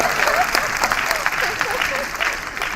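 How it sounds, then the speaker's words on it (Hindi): Audience applause at a live cultural talk on lok parampara, a steady wash of many hands clapping that fills the whole moment, with some voices mixed in underneath. "ताली बजाओ भाई"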